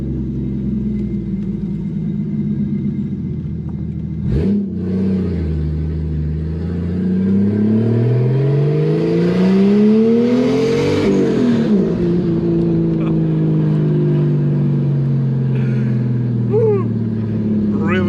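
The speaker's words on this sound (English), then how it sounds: "I mean, the engine, it sounds amazing." A 600hp Toyota Supra MK3 engine revs repeatedly, rising and falling in pitch with a deep, loud rumble close by, and a brief thump partway through.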